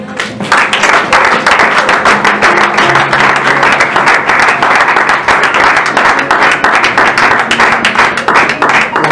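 A church congregation applauds at a service, dense, loud, continuous clapping from many hands that stays steady throughout.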